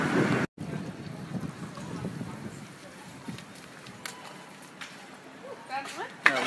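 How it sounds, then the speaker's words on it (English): Breezy outdoor weather in Recklinghausen, wind buffeting the microphone as a low rumbling rush with gusts, moderately loud, with faint voices and a sharp brief dropout near the start. "Nice and breezy."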